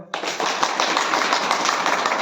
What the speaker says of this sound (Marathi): काय टाळ्या